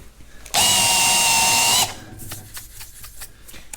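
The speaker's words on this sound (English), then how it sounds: "So I'll take a deburring bit." A power drill with a deburring bit spins against freshly threaded metal on a Caterpillar D2 bumper, one loud steady high whine of a little over a second, close by, then stopping into quiet handling noise.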